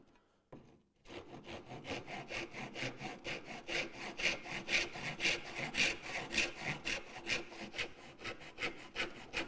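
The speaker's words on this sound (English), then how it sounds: "Don't cut into the face of the tenon in the inside corner." A hand saw cuts a wooden tenon for a door, steady back-and-forth strokes rasping close and clear for about nine seconds after a short quiet start, with no talking.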